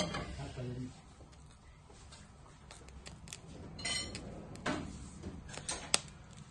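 Metal utensils clinking and tapping while a larger spoon is fetched in a kitchen during courgette fritter preparation, scattered sharp clinks and knocks at close range after a brief stretch of talking.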